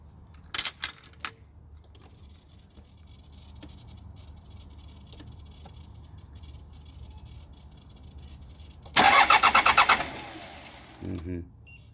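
A Hyundai Terracan's 2.5-litre D4BH diesel engine, which has a knock, is cranked after repair. A few sharp clicks come first, then a loud, rapid, rhythmic burst of cranking near the end followed by a short thud.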